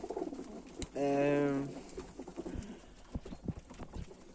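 Pigeons in a loft with young birds: a close, loud cooing call rises once over shuffling and scratching sounds, with someone speaking quietly nearby.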